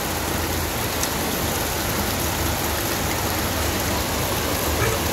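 Rain falls steadily during sunshine, a dense, loud, continuous hiss of drops without pause and no talk.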